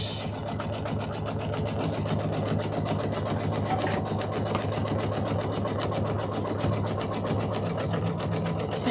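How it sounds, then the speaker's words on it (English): A sewing machine runs a long basting stitch across a quilt block, a fast, even mechanical whir with a steady needle rhythm, close and continuous throughout. "now it's just going to do a basting stitch around where your house is going to go"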